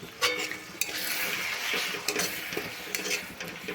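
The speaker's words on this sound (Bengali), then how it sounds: "এখন অল্প জল দিয়ে মশলাটা কষিয়ে নেব" Tomatoes and ground spices, turmeric and chilli powder frying in oil with a splash of water while a spoon scrapes and stirs the pan, giving steady sizzling broken by clinks of metal on the pan, close and moderately loud.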